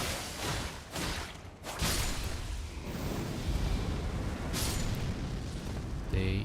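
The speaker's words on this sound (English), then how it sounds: "They explode. Suicide bombers." Suicide bomber enemies blowing up in Elden Ring, a series of loud explosive bursts and booming blasts with rumbling debris, the detonations following one another over several seconds.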